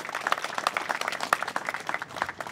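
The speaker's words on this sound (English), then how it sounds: "Please give a round of applause to all Vietnamese Student Association of Yerba Buena." Scattered applause from an audience at a memorial ceremony at Yerba Buena High School in San Jose, honoring the Vietnamese Student Association, with uneven, moderately close claps at a modest volume.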